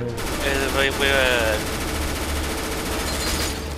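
Rapid automatic gunfire from the video game CS:GO rattles steadily through the whole stretch, with a player's voice speaking briefly over the shooting.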